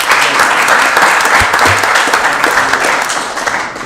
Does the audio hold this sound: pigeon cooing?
no